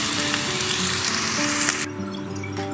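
Onion sizzles steadily in a hot pan while being sautéed toward golden brown, a close, dense frying crackle that holds evenly and eases slightly near the end.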